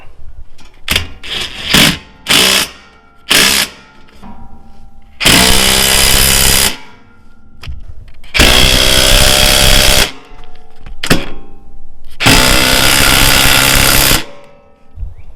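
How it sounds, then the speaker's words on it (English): A power tool tightens bolts on a rear cargo basket inside a Jeep Rubicon, firing in short loud bursts and then longer sustained whirring runs separated by brief pauses. "I'm going to go ahead and tighten down the bolts on the side first"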